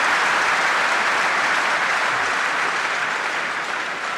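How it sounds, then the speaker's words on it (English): A crowd at a 2012 World Team Table Tennis Championships women's semifinal applauds loudly and steadily, a dense sustained clapping that tapers slightly toward the end. "The crowd loving it."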